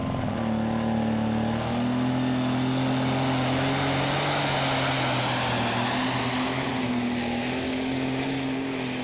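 Tractor pulling at the Eurocup in Brande, Denmark: a heavily modified pulling tractor engine roars loudly and continuously down the track, a dense, sustained high-powered howl with slowly shifting pitch.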